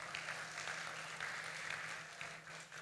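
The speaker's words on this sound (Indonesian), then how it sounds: "Beri tepuk tangan saudara." Applause from a church conference congregation, a steady, continuous patter of many hands clapping at a distance, quite faint.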